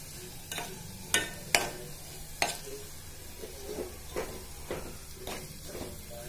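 Masala for Kolhapuri misal frying in a pan while being stirred, a low steady sizzle under a run of sharp scraping strokes, loud at first and then softer, with no talking.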